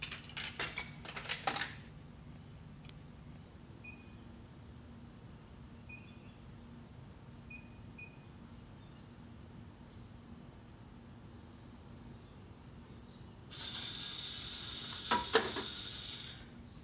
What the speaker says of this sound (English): enter the token into the machine, and it'll vend a product like this